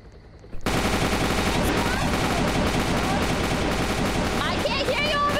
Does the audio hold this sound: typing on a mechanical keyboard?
no